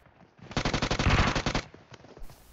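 Rapid burst of automatic gunfire from a mobile battle royale shooter, a dense string of loud close shots lasting about a second, then a few scattered faint shots afterward.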